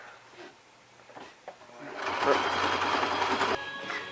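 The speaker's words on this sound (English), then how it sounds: "And you're still sewing." A sewing machine stitches at home, starting with soft intermittent taps and then running in a loud continuous whir for over a second before easing off, while people talk nearby.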